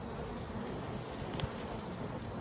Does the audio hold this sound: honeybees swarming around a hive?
yes